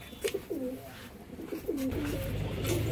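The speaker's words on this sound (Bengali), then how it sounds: "এটা হচ্ছে সিয়া পায়রা, ফুল শিয়ালা ঘরেরই পায়রা, কিন্তু সিয়া পায়রা" Giribaz pigeons coo in soft, rolling phrases close by, with two bursts of cooing. A low rumbling background rises toward the end.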